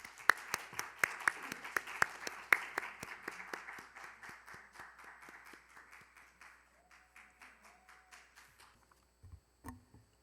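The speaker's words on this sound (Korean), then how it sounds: "석인나 참가자의 연설 박수로 들어보겠습니다" Audience applause for a speech contestant at a Korean youth speech competition, many hands clapping at first and then thinning into slower, sparser claps that fade toward the end, followed by a brief soft knock.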